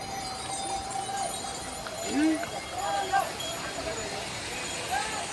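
Horses walking on the Kedarnath pilgrimage trek, their hoof clops faint and scattered among crowd noise, with people talking nearby and a few sharp whistle-like calls cutting through.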